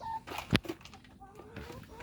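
Laying hens on a Thai egg farm cluck in a few short, scattered calls, one sharper squawk standing out near the middle, fairly close against a quiet background.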